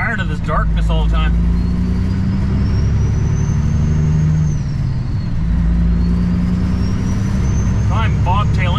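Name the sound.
semi truck driving without trailer (bobtailing)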